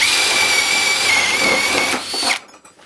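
ProCraft brushless cordless drill boring with a 20 mm bit in second gear, giving a loud, close, steady whine under load that dips and then stops abruptly near the end.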